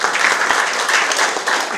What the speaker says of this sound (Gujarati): એને મારા કહેવાથી તાળીઓ એક વખત.